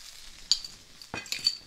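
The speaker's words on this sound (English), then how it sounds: "Then you want adding back the prawns. Good stir." Prawns with chili, salt and peppercorn are stirred in a pan, giving two or three quiet metallic clinks and scrapes of a utensil against the pan over faint background sizzle.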